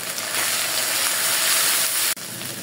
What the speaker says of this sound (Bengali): একটু জল দিয়ে দিব মশলা কষানোর জন্য